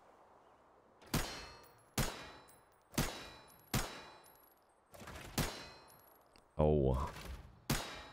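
Gunshots in the video game Arena Breakout, seven or so sharp single shots spaced about a second apart with short ringing tails, one harsher metallic burst near the end, and a brief voice heard once.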